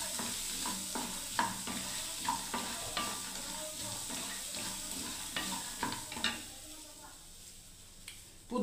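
Ingredients frying in a pan with a busy sizzle, broken by frequent scraping and clinking strokes of a spatula while stirring, easing toward a quieter hiss near the end.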